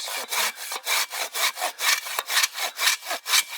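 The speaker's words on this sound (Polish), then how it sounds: "Ty już pniak piłujesz!" Silky hand saw cutting through a wooden tree stump, steady back-and-forth strokes roughly every quarter second, close and loud, rasping throughout with no talking.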